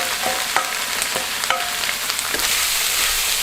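Chopped vegetables fry in a pan with garlic and ginger paste, giving a steady, close sizzle broken by short clinks and scrapes of stirring, with no voices.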